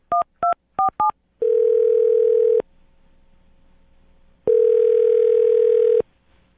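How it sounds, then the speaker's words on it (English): Telephone keypad tones beep in a quick string of short dialing pulses, followed by two long, loud ringback tones separated by a quiet gap, heard alone and close. "I'm going to dial her phone number right now"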